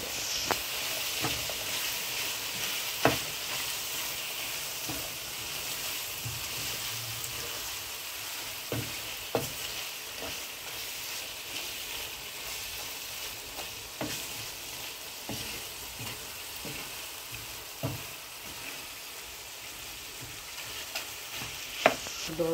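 Potatoes sizzling in hot oil with garam masala for Bangladeshi spicy tacos, a steady frying hiss with scattered clacks of a spoon stirring the pan, close and continuous with no voices.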